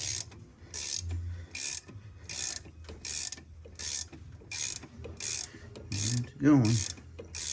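A ratchet works the crank pulley off a 1989 Ford Ranger 2.9 with sharp, evenly spaced clicking bursts, about a dozen close by, and someone speaks briefly near the end.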